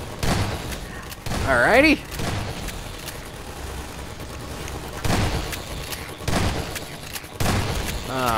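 Gunfire in Half-Life 2 Episode Two, with several loud bursts of shots and booms spread across the stretch and a lull in the middle, while someone speaks briefly over it.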